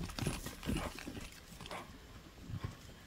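A horse named Gulsary moves at pace, its hooves beating out an irregular, fairly close clip-clop over a few seconds with no voices.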